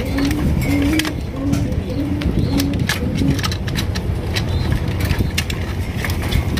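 Red Kormona pigeons at someone's pigeon farm coo in a run of short, repeated low calls over steady background noise and murmuring voices, the cooing fading after the first few seconds.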